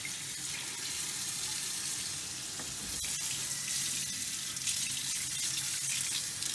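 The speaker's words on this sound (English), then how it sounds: "So we're going to get it rinsed off real good here now." Tap water runs steadily into a carbon steel wok being rinsed after soap scrubbing, a continuous close hiss and splatter with a brief clatter midway.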